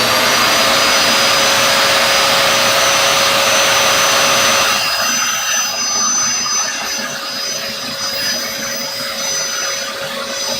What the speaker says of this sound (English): I'm gonna run the vacuum cleaner, it's gonna get noisy.